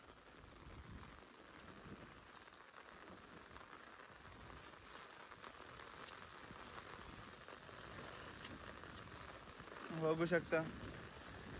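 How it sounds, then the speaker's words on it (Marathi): Heavy rain falls in green countryside near a cashew orchard, making a steady soft hiss throughout, with a person speaking over it. "पाऊस जोरात लागतोय."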